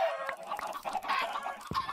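Chickens cluck repeatedly in the Minecraft dungeon game, several close, loud squawking calls in an uneven rhythm across the whole stretch, with a sharper cry near the end and no talking.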